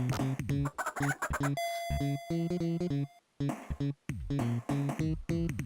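Cartoonish chickens of the Cluck Squad in the Toejam & Earl video game cluck and squawk in rapid, loud bursts, with short pauses and a steady electronic tone cutting in partway through.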